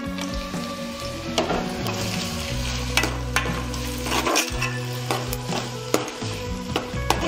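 Onions and green chillies fry in a pan for fish curry, a steady close sizzle with occasional spoon scrapes and stirring clinks throughout.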